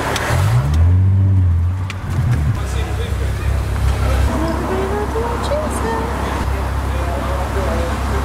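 Cars pull into a busy petrol station, among them a Jaguar XKR, their engines rumbling close and loud at first, then easing into a steady mix of traffic noise with a passing whine, while a voice talks over them.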